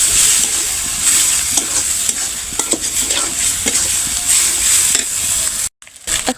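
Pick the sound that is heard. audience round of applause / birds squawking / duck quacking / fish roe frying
fish roe frying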